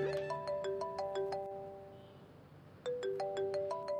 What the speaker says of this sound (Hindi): लो, तुम्हारी दादी का फोन आ रहा है